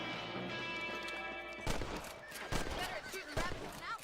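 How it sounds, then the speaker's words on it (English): Rifle shots at rabbits in Red Dead Redemption, a few sharp cracks spaced across the second half over a steady droning background, with a voice talking in between. "Better at shooting rabbits than outlaws, I see."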